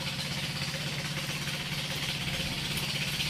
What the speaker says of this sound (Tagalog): meron po tayong makina dito sa tabi, hayaan nyo lang po yan, kasama po yan.